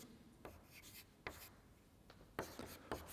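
A chemical name is chalked or marked onto a board during a chemistry lecture on competing reactions, a handful of quick scratchy strokes in short bursts, fairly faint with room ambience and no talk.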